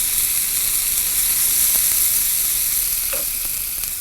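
Fenugreek seeds dropped into hot oil just after tempering mustard seeds for a mango pickle, with the stove switched off, giving a steady close sizzle and hiss that runs the whole time with a few faint crackles.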